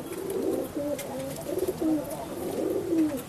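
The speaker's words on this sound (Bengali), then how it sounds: "এইসব ঘরের পায়রা না?" Domestic pigeons coo close by in repeated soft, throaty rolling phrases that rise and fall over a quiet background.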